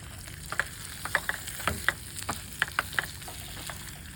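Pancakes and chorizo fry in a pan at a camp breakfast, giving a steady close sizzle with scattered sharp crackles and pops throughout.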